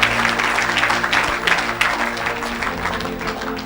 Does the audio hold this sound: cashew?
no